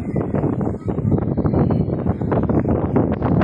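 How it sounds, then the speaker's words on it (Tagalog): Strong wind buffets the microphone outdoors at a roadside coffee stop on the Marilaque highway, a loud, continuous rumbling roar with uneven gusts. "Makikita nyo kung gaano malakas yung hangin."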